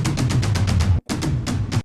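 A quick run of loud drum hits rolling in a steady rhythm, a brief gap, then a second shorter burst of toms, dry and close.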